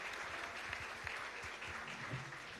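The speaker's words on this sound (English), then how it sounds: "let's give them one more round of applause." Audience applause at a school debate, a sustained round of clapping from a room of people, fairly faint and steady.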